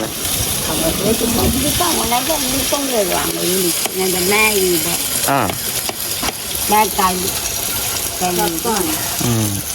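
Onions sauté in a pan with a steady hiss and sizzle and occasional stirring, while people talk over it nearly the whole time.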